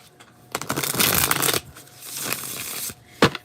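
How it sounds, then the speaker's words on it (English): Crisp riffling of a tarot deck being shuffled in a few quick bursts, with a sharp snap near the end, close up. "I'll go ahead and give it another shuffle since you're with me."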